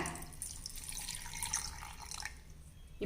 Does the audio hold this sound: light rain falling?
no